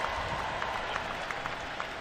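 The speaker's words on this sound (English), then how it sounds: "How about a round of applause for both teams tonight?" Stadium crowd applauds both teams at the Orange Bowl, a broad continuous wash of distant clapping and cheering from a large audience with no talk over it.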